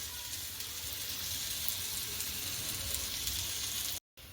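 A gram flour (chana) pudla roasts in oil on a pan, giving a steady, close, even sizzle that runs continuously before a brief cut near the end.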